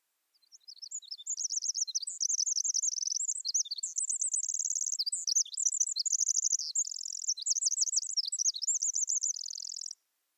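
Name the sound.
Pacific wren song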